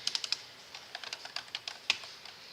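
Typing on a computer keyboard while working in InDesign, a quick uneven run of light key clicks close to the mic, with one louder tap near the end.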